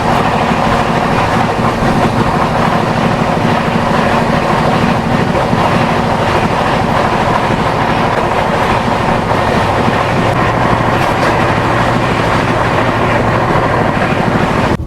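Rajdhani Express from Delhi to Secunderabad heard from inside the coach while running, a steady loud rumble with rhythmic clickety-clack of wheels over rail joints throughout, no voices.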